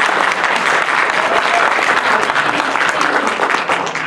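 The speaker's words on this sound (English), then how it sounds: "Hold your applause." Audience applause at a 2019 Somerset County, New Jersey freeholder debate, a steady, loud wash of clapping from a crowd that holds even throughout without any speech over it.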